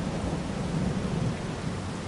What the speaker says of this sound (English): the thunder is just killing me, it's so loud.